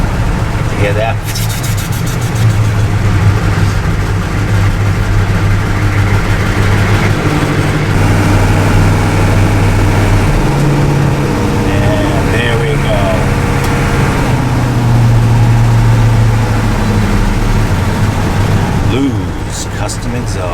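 GM 6.2 diesel engine with a custom exhaust idling, a loud, steady low rumble holding close for the whole stretch with slight shifts in tone, and a voice speaking briefly over it.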